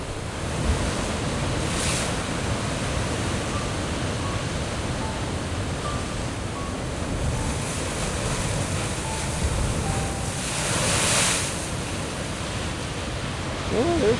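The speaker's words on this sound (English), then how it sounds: "I always feel like I'm home in some way when I hear the power of the waves," Ocean waves surge and crash along the Yachats coast, a continuous roaring wash with a stronger rush near the end, mixed with steady wind buffeting the microphone and no clear voices.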